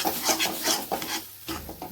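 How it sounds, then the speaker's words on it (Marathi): Semolina being stirred and roasted with a spoon in a pan for sheera, a repeated scraping rasp in steady strokes, close and moderately loud, with no talking. "आता रवा भाजून घ्यायचा."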